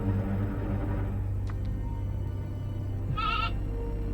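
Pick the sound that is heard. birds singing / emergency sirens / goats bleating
goats bleating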